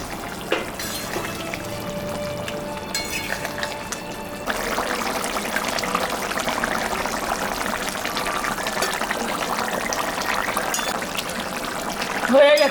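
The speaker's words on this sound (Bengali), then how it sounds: "ঝোল ফুটে গেছে, এখন আমি মাছটা দিয়ে দেব।" Pieces of katla fish slide into a boiling curry broth, and the steady bubbling grows into a louder, fuller simmer and sizzle that continues to the end.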